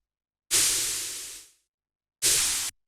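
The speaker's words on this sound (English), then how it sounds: "this is also just a bit of white noise going into a bandpass filter" Bursts of white noise through a bandpass filter, with no auto-pan, used for dark techno: a loud hiss lasting about a second that tapers away, then a shorter burst that cuts off abruptly.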